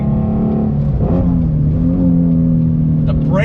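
A 2019 Ford Shelby GT350 engine pulls hard toward its 8,250 RPM redline, a loud, steady, sustained roar with rising pitch that dominates the clip alongside some in-car noise.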